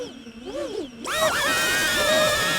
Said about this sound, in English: Here you can hear the drone is crying,